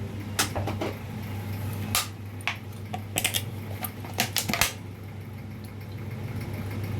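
Whole cumin seeds and dried red chillies crackle in hot mustard oil, scattered sharp pops and ticks rising over a low steady hum from the kitchen.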